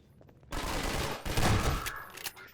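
Sustained burst of automatic gunfire from an allied character in Half-Life 2, loud and dense rapid shots starting abruptly and continuing to the end.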